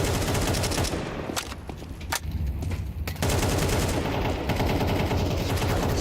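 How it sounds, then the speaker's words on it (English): Sustained automatic AK rifle fire from a Counter-Strike 2 match at a professional esports tournament, dense rapid bursts filling nearly the whole stretch with a brief lull in the middle, loud and close with no talk. "AKs tear through these armorless players."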